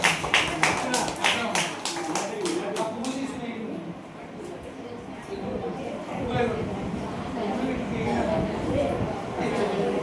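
At an Independence Day gathering, a crowd claps in a brief burst of distinct rhythmic claps that fade after a few seconds into a murmur of talk and background noise.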